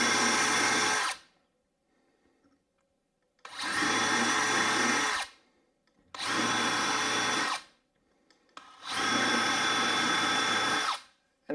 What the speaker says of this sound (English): I'm going to take my drill and I'm going to clean out all 4 of